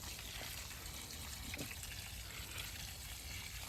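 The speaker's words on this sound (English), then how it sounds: "The next step is filling the tub with water." Water runs steadily into a tub, a continuous broadband rush and trickle with no pauses, close and even throughout, during a watermelon seed harvest.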